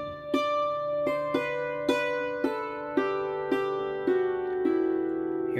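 A hammered dulcimer plays a slow lesson rendition of Away in the Manger: about nine struck notes ring out clearly with long, shimmering sustain overlapping into a steady drone, heard alone and close.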